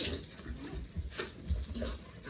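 A dog whimpering softly nearby, several faint whines and small yips in an uneven pattern over low indoor background noise.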